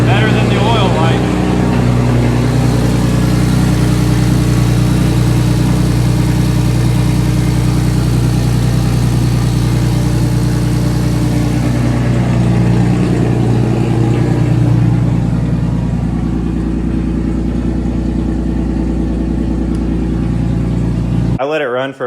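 A rebuilt turbocharged BMW E46 engine runs steadily after new rod bearings and an oil pump were fitted, giving a continuous loud mid-pitched drone that cuts off abruptly near the end, with talk over it.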